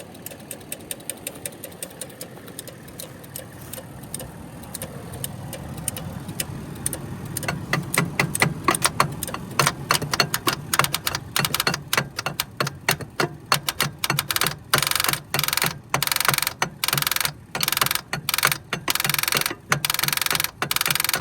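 Starter on a mini truck clicking without engaging: a dense run of sharp, rapid clicks that starts faintly and turns loud and steady about a third of the way in, continuing to the end with short gaps and no voices.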